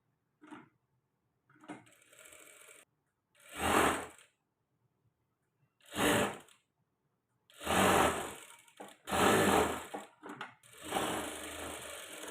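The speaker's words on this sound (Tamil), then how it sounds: "இப்படி மடித்து வச்சு இப்படி ஸ்டிச் பண்ணிடுறேன்." Sewing machine stitching a blouse, several separate bursts of rapid whirring and stitching that each last about a second or more, with short quiet gaps between them, close and clear with no talking.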